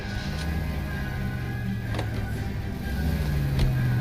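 A car engine humming steadily in the LA Noire video game as the car is driven away, a continuous low drone with a few brief clicks, no voices.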